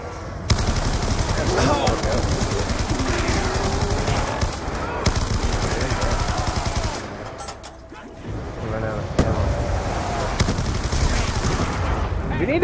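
Rapid automatic gunfire rattles almost nonstop in Black Ops 2 zombies on the Mob of the Dead Alcatraz map, loud and close with brief pauses. Players talk over the shooting.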